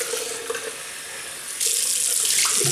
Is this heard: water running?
yes